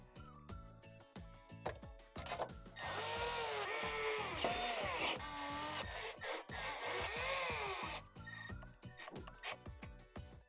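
A power driver runs 1/4-inch screws into the heater assembly of a Whirlpool Swash washer in several loud whirring bursts, broken up by metallic clicks and handling clatter.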